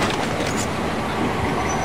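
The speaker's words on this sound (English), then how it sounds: "Whoa, I almost got hit by the train." A train rushes past in Far Cry 3, a steady, loud, close roar of rolling wheels and rail noise holding level throughout with no talk over it.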